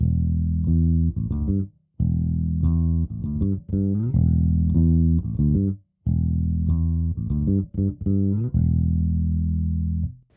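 Bass guitar run through a Fractal FM3/FM9/Axe-FX III modeler with the output EQ switched off plays a steady, full low-end riff of sustained notes with brief gaps, loud and close with no talking.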